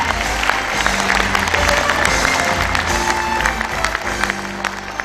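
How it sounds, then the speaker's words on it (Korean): A crowd claps steadily at a Gyeongbuk provincial government ceremony declaring a campaign against the low birth rate, the sustained applause layered over loud background music with a thumping bass line. "여러분 뜨거운 박수 부탁드립니다."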